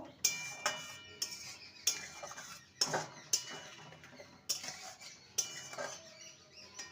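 A utensil stirring a raw tomato and prawn dish in a cooking pan, sharp metallic scrapes and clinks against the pan every half second or so, close up over a faint simmering background with no talking.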